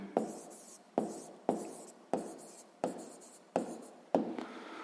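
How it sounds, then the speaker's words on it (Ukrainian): Pen strokes writing out a math answer on paper, seven quick evenly spaced scratches close up, each one sharp then fading, with no talking. "Гаразд, записуємо відповідь."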